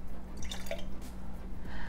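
Filtered water is poured into a sourdough starter, heard as faint drips and soft liquid splashes in a quiet room.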